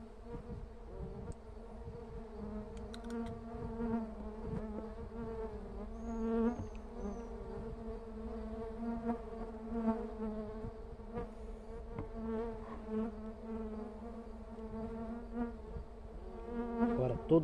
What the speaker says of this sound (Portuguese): Olha só, um enxame muito forte.